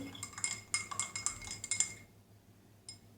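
A spoon stirs coffee in a glass, ringing with rapid bright clinks for about two seconds, then stops, followed by one last light tap, close and clear.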